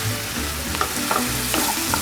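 Fresh cream is stirred into mushrooms frying in a pan, giving a loud continuous sizzle with soft spoon scrapes and stirring knocks over the two seconds.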